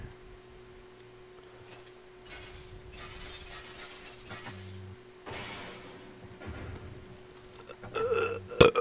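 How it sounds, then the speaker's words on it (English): A burp after drinking Diet Coke during a Half-Life: Opposing Force playthrough, a short low guttural eruption near the end of a quiet stretch with faint game background sounds. "Oh man, I'm burping."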